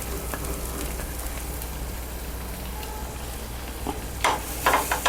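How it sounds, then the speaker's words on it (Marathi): Grated coconut being sautéed in roasted besan for a coconut-gram flour barfi, a soft steady sizzle with occasional scraping and stirring bursts growing louder toward the end. "नारळ पण आपल्याला परतून घ्यायचं आहे"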